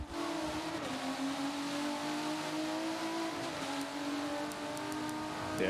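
Race cars in a sim-racing esports grand final at an Atlanta circuit, engines droning steadily with shifting pitch as cars close up and pass, a continuous loud roar with faint tire noise and no talk.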